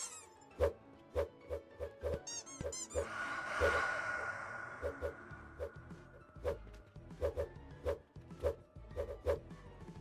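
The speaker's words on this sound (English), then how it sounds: "it's a squeaky toy. It makes a thump noise when it hits." A squeaky toy in the video game Poppet Quest repeatedly strikes and squeaks, giving a string of sharp, short hits with a squeak, close and fairly loud, over a soft game background.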